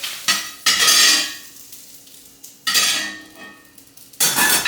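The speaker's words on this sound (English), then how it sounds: "Now I'm just gonna add this in and cook it, simmer it." Almond milk sauce in a pan being stirred, with utensil scrapes and clinks in bursts of cooking noise separated by quieter pauses, close and fairly loud.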